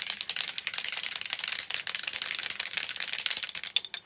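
Spray foundation can with a little ball inside being shaken hard, a fast continuous rattle of the ball clicking against the metal, close up and loud, lasting several seconds with no talk.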